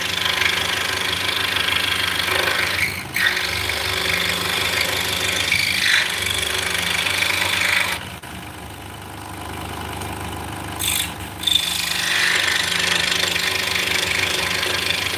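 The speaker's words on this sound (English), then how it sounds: "Yeah, this is just a powered fret saw, jeweler saw." A powered fret saw, or jeweler saw, cuts walnut with a steady rasping buzz, close and fairly loud. It dips briefly once or twice before resuming, and no one talks.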